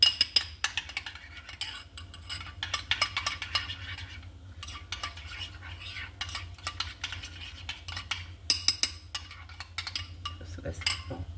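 A salad dressed with mustard is mixed in a bowl, with quick, irregular clinks and scrapes of a utensil against the dish, close and fairly quiet.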